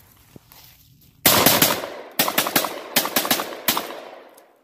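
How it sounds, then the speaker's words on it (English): A shotgun fires at steel targets outdoors, several loud sharp blasts in an uneven sequence of about five shots, each with a ringing tail from the struck steel. "And that is a shotgun."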